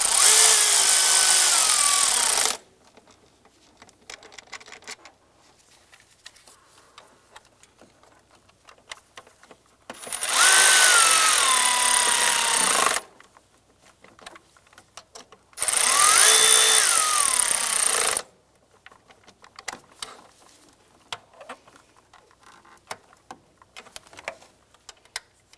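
A ratchet drives the throttle body bolts down on a 2008-2013 Nissan Rogue in three loud, close whirring bursts of a few seconds each, separated by quiet stretches of faint ticking and handling noises.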